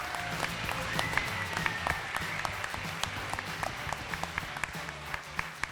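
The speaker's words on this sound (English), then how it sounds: "Can we please give these guys a massive round of applause?" An audience gives sustained applause to student showcase teams at a national grand final, with distinct claps over a continuous low hum from the hall.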